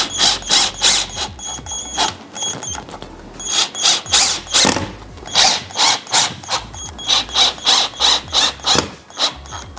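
A power drill whirs in short repeated bursts, driving screws while assembling an end table, with rhythmic spurts and brief pauses, loud and close with no talking.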